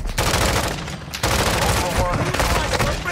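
Dense, loud automatic gunfire from the Call of Duty DMZ video game, a rapid continuous burst with a brief break near one second before the firing resumes.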